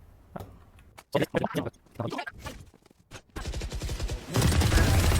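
Video game gunfire from a newly bought gun, a burst of rapid shots after scattered talk, building into louder sustained automatic fire near the end.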